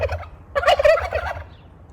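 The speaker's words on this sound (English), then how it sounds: "You're looking right at me and gobbling." Turkeys gobble loudly and close by near a greenhouse, one rapid burst of rattling gobbles in the middle of the clip over a low rumble of wind.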